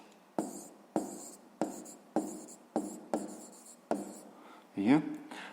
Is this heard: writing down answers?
yes